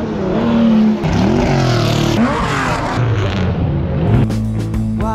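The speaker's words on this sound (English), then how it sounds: "I can hear cars going." Racing cars at the Goodwood Revival motor meeting pass close by, engines revving and rising and falling in pitch as they accelerate past, one after another, loud and continuous with no talk.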